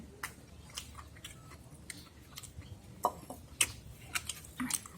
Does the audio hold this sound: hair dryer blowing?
no